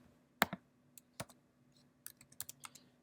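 Keys clicked on a computer keyboard while typing a command on a Linux system, a few crisp, close taps in uneven bursts over a quiet steady hum, with no talking.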